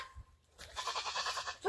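Goats bleat on a farm, a short run of near, wavering cries after a quiet start, with a louder call cutting in at the end.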